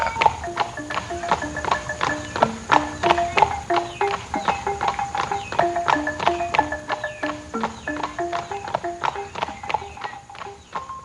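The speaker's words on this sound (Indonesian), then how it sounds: "Pikir Basan Dewa Mada melamun sambil mencongklakkan kuda." A ridden horse's hooves clip-clop in a steady, rhythmic beat, close and continuous throughout with no voices.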